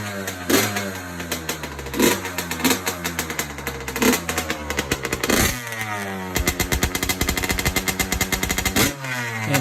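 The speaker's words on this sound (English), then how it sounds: "here's the bike running in the shed perfectly fine" A Yamaha YZ85 dirt bike engine runs inside a shed, idling with a rough two-stroke rattle and repeated loud revs that rise and fall, close and continuous with no talking.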